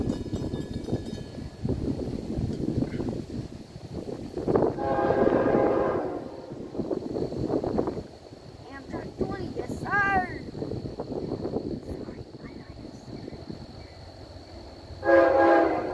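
Amtrak 20, a passenger train with a special coach car, rumbles past at Cornelia with clattering wheels and sounds its horn in several loud blasts; people talk over the passing train.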